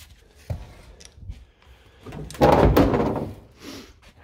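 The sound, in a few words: opening the boot of an FSO car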